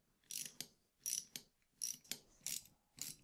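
Nuts are tightened on a zinc U-bolt mount with a ratchet, giving quiet, close, paired clicking bursts repeated in a steady rhythm about four times.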